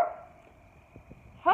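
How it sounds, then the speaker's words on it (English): A dog barks somewhere nearby, a brief sharp yelp that stands out at the end over a quiet indoor background. "This dog over there is getting on my nerves."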